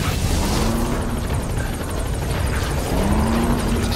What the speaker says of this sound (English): All right, the chopper's touching down.